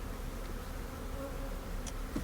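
Honey bees hum steadily around an open hive being smoked and inspected, a dense continuous buzz close by with occasional individual bees flying past near the end.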